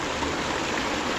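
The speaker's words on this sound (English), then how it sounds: "down at the banks of the mighty Willamette River, underneath the famous walking bridge" Steady broadband rush of the Willamette River flowing along its banks beneath a walking bridge, a continuous close wash of water with no breaks and no voices.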